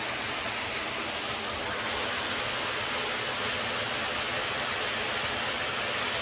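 A waterfall roaring as a steady, broad wash of rushing water, continuous and unbroken throughout, with no voices.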